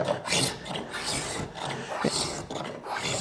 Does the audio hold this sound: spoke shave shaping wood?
yes